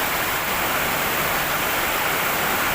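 Heavy monsoon rain pouring in Kerala alongside rushing street water, a dense, loud, unbroken wash of noise with no pauses.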